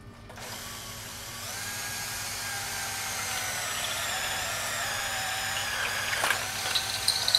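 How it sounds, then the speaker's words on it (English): A hand drill bores through a metal bar during aircraft frame assembly, a steady high-pitched whirring grind that builds slightly over several seconds, with a low background hum. "we'll just drill through with our hand drill."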